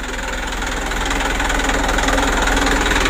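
A car engine idling at just over 600 rpm after a sludged, jelly-like oil buildup, a steady close rumbling drone with a faint knocking pulse, no voices.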